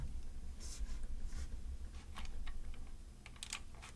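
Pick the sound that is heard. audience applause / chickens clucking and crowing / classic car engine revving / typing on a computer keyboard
typing on a computer keyboard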